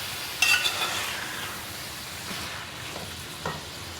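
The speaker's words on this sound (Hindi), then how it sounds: "इसको अब मैं 5 मिनट के लिए इसके साथ अच्छी तरह से फ्राई करूँगी" Tomatoes frying in a pan for karahi gosht, a soft steady sizzle with a clatter of stirring at the start and a couple of light utensil taps later.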